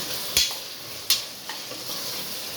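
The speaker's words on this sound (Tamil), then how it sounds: "தயிர் ஊற்றியாச்சு. நல்லா இது வதக்கலாம். நல்லா வதங்கணும்." Masala with curd for mushroom biryani is sautéed in a pan, producing a soft continuous sizzle broken by two sharp spoon scrapes and a fainter third stroke, close and without talk.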